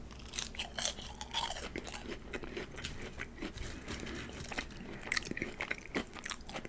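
Crunchy french fries bitten and chewed very close to the microphone during a cheeseburger and Polish sausage meal, a dense continuous stream of crisp crackling crunches with no talking.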